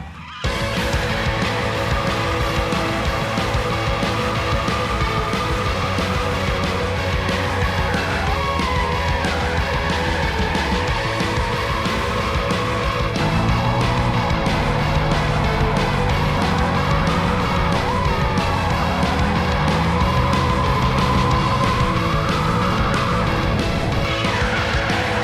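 An RTR Ford Mustang drifting at a drift school, its engine roaring continuously with long tire squeals and skids that rise and fall, loud and sustained throughout.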